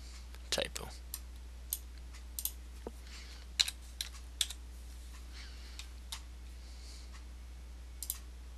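Computer keyboard typing while a virtual machine is set up: scattered, irregular key clicks close to the microphone, a few quick bursts and single taps over a quiet hum, with some faint speech.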